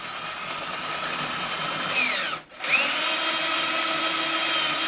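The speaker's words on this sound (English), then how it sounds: "And I'll just drill until I see white wood." A power drill whines steadily through the wooden guitar headstock of a StewMac HD-28 kit while fitting Grover tuners, briefly winding down to a stop mid-way, then spinning back up and grinding on.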